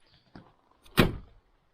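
A side-by-side UTV door swings shut with one solid, fairly loud latching thud, preceded by a lighter click, in otherwise quiet surroundings.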